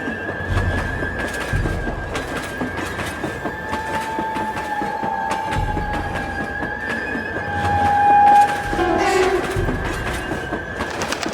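A cartoon train running in a continuous loud rumble with rhythmic clacking over the rails, while a sustained horn-like tone sounds in the middle and swells toward the end.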